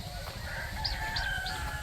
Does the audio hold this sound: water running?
no